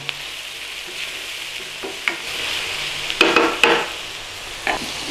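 Scotch pie filling seasoned with a pinch of black pepper being stirred in a hot pan, a soft steady sizzle with a few louder scraping stirs near the middle and end.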